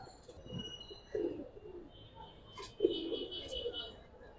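Giribaz racing pigeons coo softly in low bursts, a few short murmuring calls spread across a few seconds amid faint background noise.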